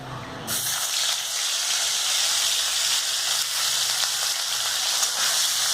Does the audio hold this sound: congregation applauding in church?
no